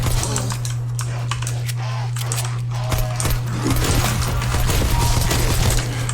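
Shotgun fire in a Call of Duty zombies match, the Spas-12, crackling as sharp bursts and clattering impacts over a steady low game hum, fairly loud and continuous throughout.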